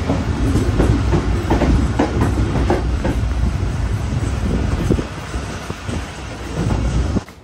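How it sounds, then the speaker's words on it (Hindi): A Pakistan Railways Pak Business Express passenger train rolls into Rahim Yar Khan station, a loud, dense rumble with clattering wheels on the rails and some wind noise, growing heavier before it cuts off. "ट्रेन रहीम यार खान पहुंच रही है।"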